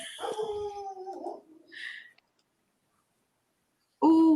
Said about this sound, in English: What, the dog?